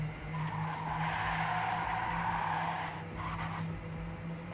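Tires skid and screech as a car brakes hard in the Trackmania Canyon racing game, a sustained loud squeal over steady engine drone lasting several seconds with small bumps.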